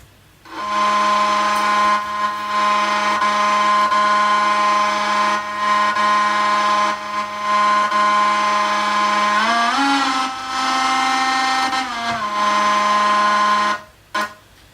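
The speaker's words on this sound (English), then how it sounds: "this synth is from where else but Synth Master, and this is the melody" A scratchy Synth Master synth melody plays steadily and loud, sustained buzzy tones holding over a low drone, with a brief pitch bend near the end before cutting off.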